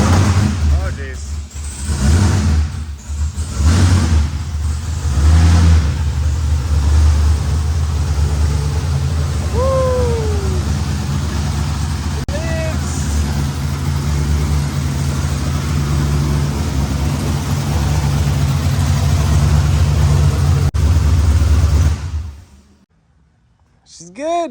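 A 1000hp BMW E46 engine runs steadily after its build, a loud low rumble with a few blips near the start, holding for about twenty seconds before cutting off abruptly; people talk faintly over it.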